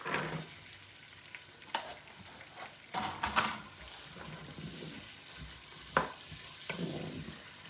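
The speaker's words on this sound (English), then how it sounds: "my onions, carrots, and celery have been sauteing" Diced onions, carrots and celery sauté in a pot, giving a steady low sizzle with occasional sharp clinks and scrapes of stirring, close and alone without talk.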